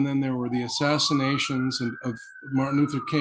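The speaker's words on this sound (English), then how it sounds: "you can hear the siren outside" A siren wails faintly in the distance, its tone rising slowly, beneath someone speaking in the foreground.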